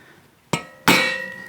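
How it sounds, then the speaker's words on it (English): A soft hammer taps twice on the valve keepers of an Aermacchi motorcycle engine during assembly, two sharp close strikes with the second louder, leaving a ringing metallic tone that slowly decays. "So you just take a soft hammer"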